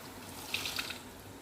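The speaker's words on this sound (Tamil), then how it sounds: "கொஞ்சமாக தண்ணி ஆட் பண்ணிக்கிறேன்" Water pours into a cooking pot of Tamil buttermilk curry with chayote, a soft, brief splash and trickle over a quiet background hiss.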